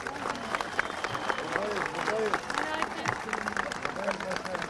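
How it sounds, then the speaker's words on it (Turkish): Outdoor crowd applauding at a public gathering with a Beykoz mayor, dense continuous clapping mixed with cheering voices and a speaker talking over the noise. "onların da alkışa, kuvvetli bir alkışa ihtiyaçları var"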